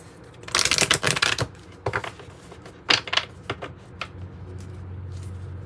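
A deck of tarot and oracle cards is shuffled by hand in quick riffling bursts with short pauses between them, close and fairly loud, with no speech.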